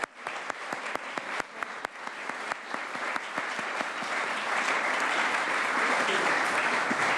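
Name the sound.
round of applause for volunteers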